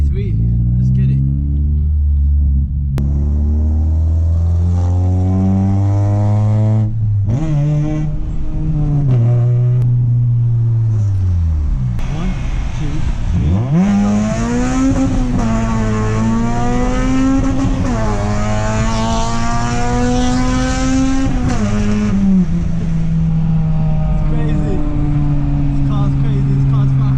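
A straight-piped salvage Honda Civic Type R drag races a 3.2 V6 Audi A3, loud engines revving and accelerating with rising and falling pitch through several gear changes, sustained throughout with a voice briefly present.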